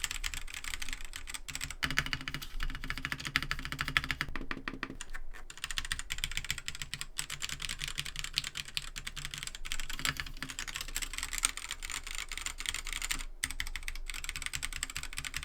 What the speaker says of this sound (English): This has red switches, and I'm going to give you a little sound test.